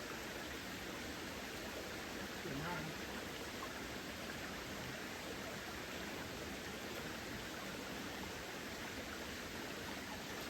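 Steady broadband rush of running water, like a small waterfall splashing nearby, constant and even throughout with no voices.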